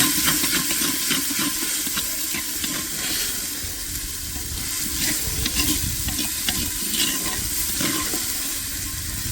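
Oil tempering for a peas and mushroom curry in a pot on a stove with cumin, garlic, ginger and onion, a steady close sizzle and frying hiss with stirring scrapes throughout, no talking.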